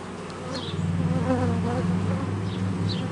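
Honey bees drone steadily at a hive, a dense, continuous buzz heard up close, with single bees whining past now and then; nobody speaks.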